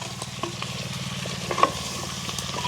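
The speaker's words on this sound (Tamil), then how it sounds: "இப்படியே நல்ல வடிவாக கலந்து விடுவோம் முருகங்காய் வதங்க வேணும்" Drumsticks (moringa pods) stirred and sautéed in a pan, a soft continuous sizzle with rhythmic scraping and light clinks of the spoon, close and moderately quiet, no talking.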